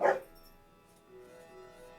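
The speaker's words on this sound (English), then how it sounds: "Yep, that's my dog." A dog gives one short bark at the start, close and fairly loud, followed by faint whimpering tones in a quiet indoor room.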